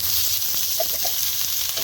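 Snails fry in hot oil in a pan, giving a steady close sizzle with a few faint stirring touches, and no voices.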